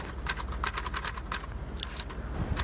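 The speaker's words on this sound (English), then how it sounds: "I went through a bunch of typewriters before, but this one's my favorite" Rapid clacking of keys on a typewriter used outdoors, a quick run of sharp strikes that stops briefly and then resumes, at moderate level over a low background hum.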